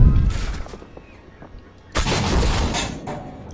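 Tank cannon fire from a T-64 in the game Armored Warfare, a sharp loud blast at the start and another heavy burst near the middle with rumbling decay, under continuous engine noise.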